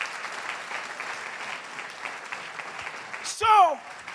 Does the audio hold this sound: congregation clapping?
yes